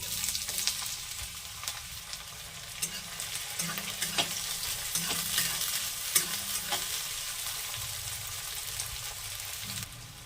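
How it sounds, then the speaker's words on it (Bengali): Sliced medium onions fry gently in oil over a cumin tempering, giving a soft, continuous sizzle with scattered light clicks and spatula scrapes, close by and without any voices. "পেঁয়াজগুলো হালকা করে ভেজে নিয়েছি"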